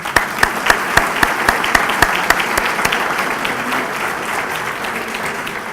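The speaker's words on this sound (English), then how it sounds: "Now you can clap." Audience applause at a firefighters' appreciation awards ceremony for new firefighters from Fire Station 1, a few loud sharp individual claps at first, then sustained steady clapping that slowly thins.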